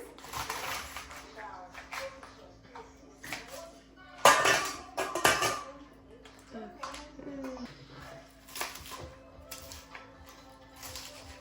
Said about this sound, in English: I'm gonna start cutting my lettuce first.